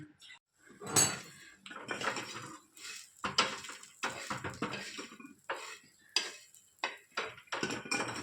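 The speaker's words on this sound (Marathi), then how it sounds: "खोबरं रंगावर भाजून घ्यायचं आहे" Coconut is dry-roasted in a pan, with repeated scraping and clinking of a metal spatula against the pan in irregular close bursts and no talk.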